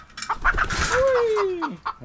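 A chicken clucks close by in short bursts, with one drawn-out falling squawk in the middle, in a date palm farm in Saudi Arabia.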